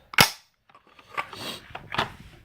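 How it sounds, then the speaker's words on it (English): The bolt of an M&P 15-22 rifle snaps forward with a sharp metallic clack, followed by a couple of softer clicks and rattles of the working parts, close and clear with no talking. "the bolt stays to the rear until I release the working parts."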